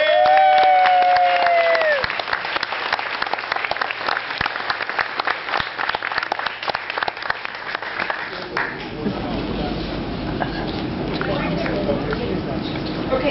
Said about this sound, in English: I would like to give a moment of applause and honor.